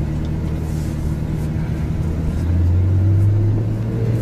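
A Ferrari engine holds a steady low rumble, then its pitch steps up midway as the car accelerates, heard close and continuous with no talking.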